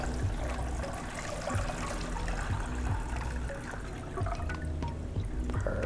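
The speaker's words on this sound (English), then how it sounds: "And now we need to add our water." A liter of water poured into a Moccamaster coffee brewer, a steady close splashing trickle running continuously with slight variations in flow, no talk.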